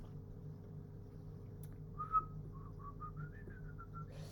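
A person whistles a short, faltering tune of about eight wavering notes, moderately loud over a steady low hum, after a brief silent stretch at the start.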